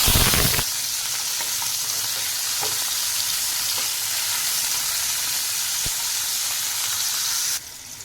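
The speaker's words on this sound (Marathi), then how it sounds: "कारले परतून घेणार आहोत तेल थोडंसं जास्त घेतलेलं आहे आता याच्यामध्ये कारले घालणार आहोत" Bitter gourd fries in a generous amount of oil, giving a loud, steady sizzle close by with a few small clinks of stirring, heard without any talk.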